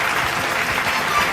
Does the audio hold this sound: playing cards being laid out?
no